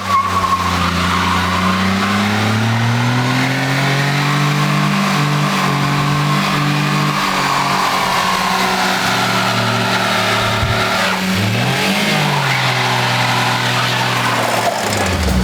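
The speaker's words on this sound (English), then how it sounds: "But the leaf blowers are working, so I'm going to flick them both on" Two leaf blowers rigged as electric superchargers on a car run loud and continuously, a droning whine that slowly shifts pitch, with engine-like revving throughout and no talk.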